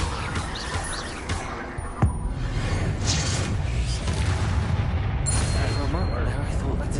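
Confringo blasting spells burst in Hogwarts Legacy combat, a dense run of booming fiery explosions and whooshes with a sharp crack near two seconds, continuous loud battle noise throughout.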